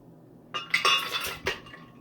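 Ice cubes drop into a glass for a strawberry banana milkshake, giving several bright clinks and rattles in a quick cluster followed by one more clink, close up over a faint room hum.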